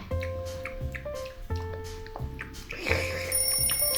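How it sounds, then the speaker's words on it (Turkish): An alarm clock rings in repeated short bursts, a bright rhythmic pattern of tones, close and clear with no talking. "Alarm çalıyor."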